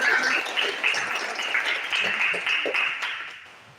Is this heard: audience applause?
yes